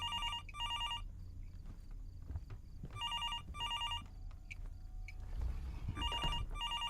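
A telephone rings in the horror video game Fears to Fathom, several repeated electronic ring bursts separated by pauses, with footsteps and low ambient rumble between rings.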